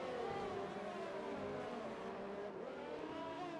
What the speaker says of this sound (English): Just enjoying listening to the cars